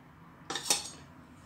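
Candied watermelon rind and syrup are tipped from one saucepan into another, a brief close metallic clatter of pot and utensil that rings for a moment and then fades.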